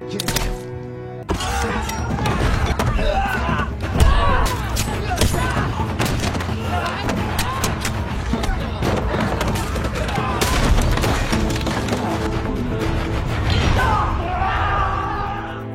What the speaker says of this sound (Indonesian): Karena Sato tidak mau menjawab, Kate pun langsung menembaknya.